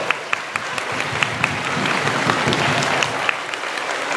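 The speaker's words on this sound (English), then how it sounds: "let's give them a huge round of applause." A crowd claps steadily in sustained applause, a dense patter of hands with a few sharper claps standing out, no voices.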